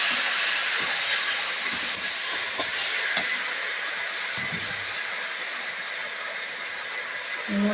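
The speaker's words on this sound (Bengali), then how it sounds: "এবার আমরা যে মিক্সারে পিষে রেখেছি আদা, রসুন, পেঁয়াজ, লঙ্কা আর টমেটো, সেই বাটাটা দিয়ে দিলাম।" A paste of ground ginger, garlic, onion, chilli and tomato fries with potatoes in a pan, making a loud, steady hiss and sizzle that runs unbroken throughout, close up, with faint clinks and no talking.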